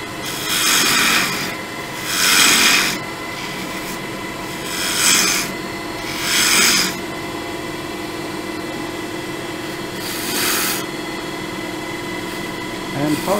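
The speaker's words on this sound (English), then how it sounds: "I'm going to use spindle gouge, cutting across the face." Spindle gouge cutting across the face of a turned wooden box on a lathe, giving several rasping bursts of shaving over a steady motor hum.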